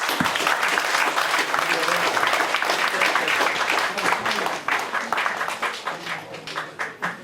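Sustained applause from a party audience at a leadership candidates' debate, dense and close, with a voice over it early on before the clapping thins and fades toward the end.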